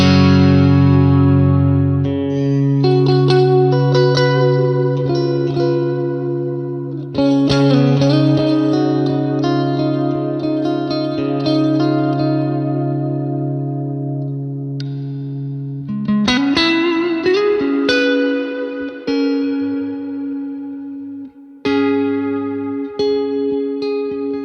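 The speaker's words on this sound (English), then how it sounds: "reverb sound you want. Lots of decay." Electric guitar notes and chords, played through a Neural DSP Archetype Cory Wong amp plugin, ring out through a lush reverb, each one trailing off in a long, shimmering decay before the next is played.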